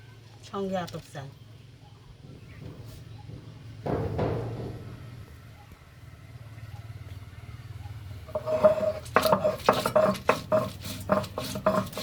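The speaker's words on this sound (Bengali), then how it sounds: "বন্ধুরা কাঁঠালের তরকারি রান্না করার জন্য ধনে জিরে শুকনো মরিচ আদা বেটে নিচ্ছি" Coriander, cumin, dried chilli and ginger are ground into a paste by hand for a jackfruit curry, giving rough scraping strokes that speed into a rhythmic run near the end, with a voice speaking in between.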